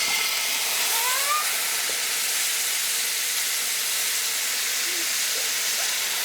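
Steam hisses loudly and steadily as a hot pan is cooled down, a bright continuous sizzle filling the whole stretch with faint background sounds beneath.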